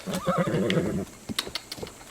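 A horse in the video game Zelda: Breath of the Wild gives a loud, wavering whinny, followed by a few clip-clopping hoof steps as it moves off, with no talk.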